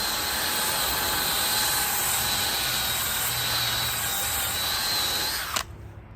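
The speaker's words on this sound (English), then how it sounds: "a Temu brush end, a DeWalt drill, but any other drill can be used, and some car mats" A DeWalt power drill with a brush attachment spins steadily on car mats with a high whine and bristly scrubbing noise, running loud and close for several seconds before cutting off abruptly.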